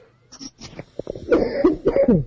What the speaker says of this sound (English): you still have a horrible cough